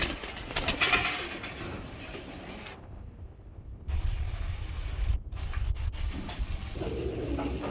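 Racing pigeons in a loft give repeated low, throaty coos at close range, the calling briefly dropping away midway before resuming, with light wind-like noise underneath.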